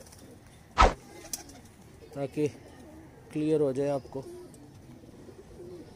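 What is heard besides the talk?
Salara teddy pigeons cooing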